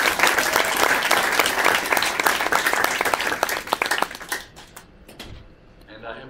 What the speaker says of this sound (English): I think we can all applaud this day